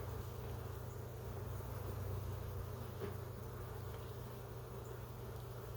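Honey bees drone steadily and close during an early spring hive check, a continuous buzzing hum with individual insects passing nearby and no talking.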